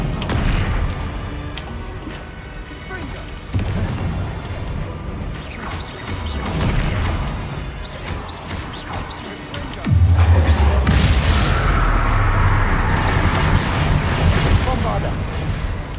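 A Bombarda blasting spell goes off in a video game, giving repeated booming impacts amid busy game noise, with a heavy low explosion swelling loudly near the end.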